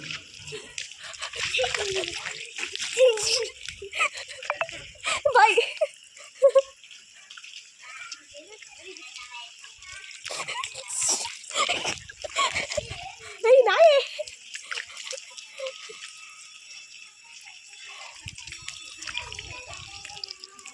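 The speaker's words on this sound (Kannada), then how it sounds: "ಫುಲ್ಲು ನೀರೆಲ್ಲ ಎಳ್ಚ್ಕೊಂಡು ಆಟ ಆಡ್ತಾ ಇದ್ದೀವಿ" Children splash and play in standing rainwater at a grandparents' home, with repeated splashes, sloshing and dripping water throughout, under lively voices and talk.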